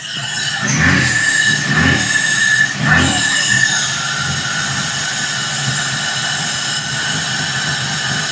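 A 1980 BMW 528i E12 with old spark plugs idles roughly: a steady low engine drone with a few surging swells early on, then settling into an even hum.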